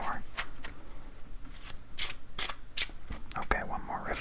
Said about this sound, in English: one more riffle.